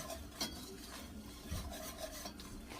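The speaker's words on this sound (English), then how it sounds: "Now we're going to add our half cup of flour. We're just going to stir it until it is all mixed in." Flour being stirred into melted butter in a pan gives a quiet, steady scraping and rubbing. A few soft clinks and knocks fall between the strokes, and no one speaks.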